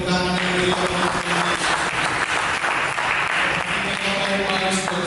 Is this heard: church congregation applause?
yes